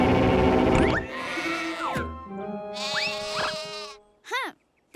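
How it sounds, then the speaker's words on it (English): Cartoon sheep bleat in a series of high, wavering calls, several overlapping near the start, then two or three shorter separate bleats with brief pauses between them, loud and close. "Hey, sheep, listen."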